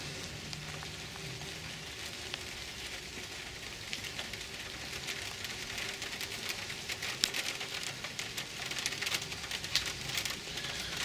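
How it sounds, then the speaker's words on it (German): Rain starting to fall outdoors, a steady dense patter of drops on surfaces with scattered sharper ticks, continuous and fairly close with no voices. "es fängt an zu regnen"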